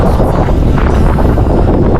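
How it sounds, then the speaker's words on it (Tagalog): Strong wind blows on a mountain trail near the Balete Tree, producing a loud continuous rumble and buffeting against the microphone. "Dito yung belong-belong yung hangin."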